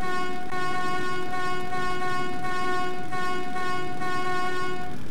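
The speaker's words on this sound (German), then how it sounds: "Ich kann die Hupe bedienen." A motorized draisine's horn in the video game Metro 2033 blares in one loud, steady, droning tone that holds for the full stretch with only slight dips, over low rumbling rail noise.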